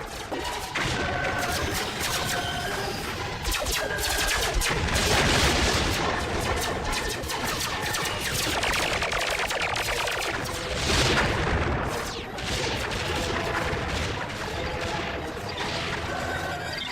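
Cartoon weapons lay down covering fire in an animated sci-fi battle. Dense, rapid bursts of gunfire rattle on loudly and almost without a break for the whole stretch.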